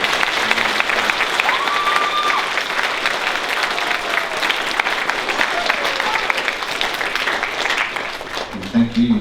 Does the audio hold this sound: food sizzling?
no